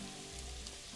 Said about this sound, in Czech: Tady bude teda hodně pršet